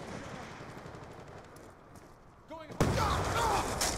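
Gunfire in Call of Duty Black Ops 2 Standoff multiplayer, a dense spray of shots with a burst near the end, mixed with game ambience and under a player's voice.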